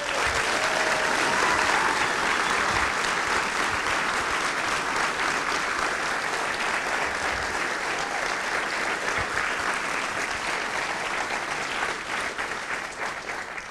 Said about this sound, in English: Can I get a big round of applause for Bruce and James up here?